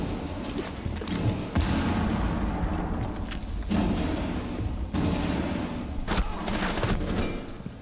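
Gunfire and booming blasts from a grenade fight in Rainbow Six Siege, a dense, loud mix of shots and explosions repeating throughout, with no clear voices.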